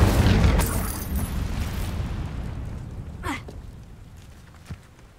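A fiery Incendio spell from Hogwarts Legacy erupts in a loud roaring burst at the start, its rumble fading steadily over several seconds, with a few faint pops and whooshes afterward.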